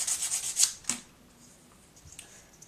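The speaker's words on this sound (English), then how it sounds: "Then I'm going to give it a little sanding." Sandpaper rubbing across a small scraped tile surface on a puzzle cube, a quick run of about six dry, rasping strokes followed by one more, then quiet.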